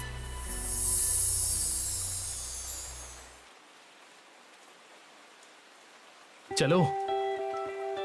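Rain falls steadily outdoors, a broad hiss that is loud early and then fades lower, with a person speaking briefly near the end.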